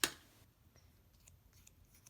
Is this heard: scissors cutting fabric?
yes